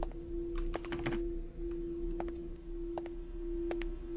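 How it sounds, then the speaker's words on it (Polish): Scattered computer keyboard key presses click in irregular bursts over a faint constant electronic tone, quiet and close, while playing the game Five Nights at Shrek's Hotel. "pewnie słychać moją klawiaturę"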